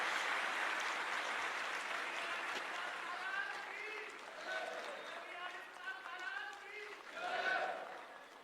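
Light, thin applause from an audience at a government youth conclave, scattered clapping swelling near the end under faint background murmur, fairly distant.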